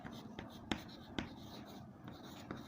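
Chalk or marker strokes on a board during a maths lesson on angles, a few short taps and scrapes spaced irregularly against a quiet room background.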